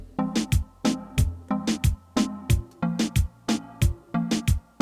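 A reggaeton beat in Studio One built on a single kick drum pattern, heard with its percussion elements in a steady, bouncing loop of punchy low thumps and sharper hits, loud and without any voice.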